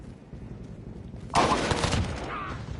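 Gunfire in a video game: a sudden loud burst of rapid shots breaks in after a quieter stretch of background rumble, continuing as a dense crackling volley for over a second before easing off.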